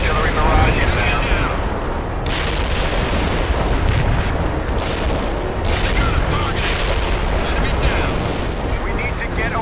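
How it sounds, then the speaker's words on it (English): Heavy artillery barrage in the video game World in Conflict: dense, continuous rumbling blasts and crackling impacts fill the scene loudly throughout, with overlapping booms and no pause. "Heavy artillery barrage inbound."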